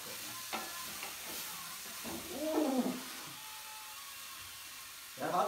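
Boiled dal being stirred in a pan, soft scraping and sloshing strokes at a low level, with a louder burst of stirring near the end, quiet and close.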